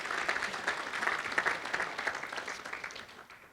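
Audience applause fills an awards ceremony honoring agricultural figures at the 2023 Mid-Columbia Ag Hall of Fame, a dense, steady wash of many hands clapping that tapers slightly toward the end.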